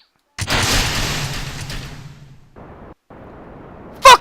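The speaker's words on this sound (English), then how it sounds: "Explosion's imminent." A rocket explodes in Kerbal Space Program, a loud booming blast that rumbles and fades over about two seconds, followed by quieter rushing noise and a brief sharp sound at the end.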